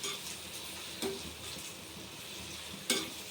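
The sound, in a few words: stirring prawn curry in a pan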